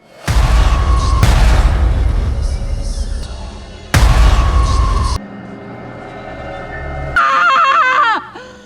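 Several loud booming gunshots crack out in close succession, followed by quieter rumbling and a high, warbling cry near the end.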